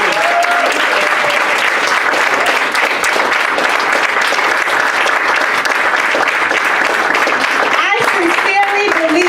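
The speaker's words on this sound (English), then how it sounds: "Let's give Jason and the team a round of applause" Loud, sustained applause from a large student leadership workshop audience fills the whole stretch, dense and unbroken, with a few voices surfacing near the end.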